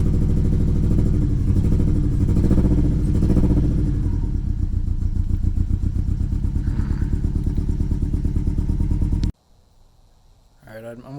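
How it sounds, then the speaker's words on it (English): Car engine idling rough and misfiring, apparently on only three cylinders with low vacuum, giving a loud, uneven, lumpy chug close by for about nine seconds before it cuts out, leaving near silence and then a faint stir of noise. "I think it's only running on 3 cylinders or something"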